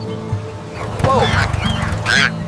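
A cartoon duck quacks in a children's farm scene, a few nasal calls close by over background music and mixed with lively voices.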